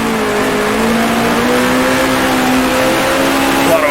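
A 1966 Formula One car in the Grand Prix Legends racing game roars at steady high revs throughout, a continuous loud engine drone with slight pitch shifts as the throttle is worked through a corner.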